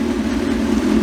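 A Kawasaki Ninja 636 that sat unused for two years idles just after starting on battery power, giving a steady, close, low-pitched engine rumble that stays unchanged throughout.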